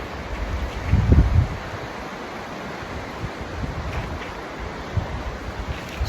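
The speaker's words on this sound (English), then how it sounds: "we're walking along a beautiful alpine river" An alpine river on a hot summer day, heard as steady broadband rushing water with some wind buffeting the microphone, continuous and fairly loud with no voices.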